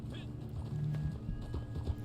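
Horses in the Red Dead Online video game clop steadily along with hooves beating over a dense, busy game soundscape, with a brief whinny-like tone rising partway through.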